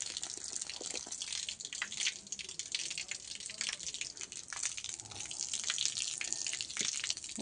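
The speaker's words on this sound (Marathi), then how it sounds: "सकाळ सकाळी आपण पाणी मारून घेतोय अंगणामध्ये" Water is splashed across a courtyard to wash it in the morning, a continuous broad wash of spattering and trickling, fairly close and steady throughout.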